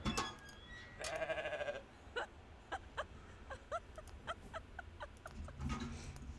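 Goats in the video game The Stillness of the Wind give a run of short, wavering bleats, some longer cries at first, then brief evenly spaced calls, fairly quiet against a soft background.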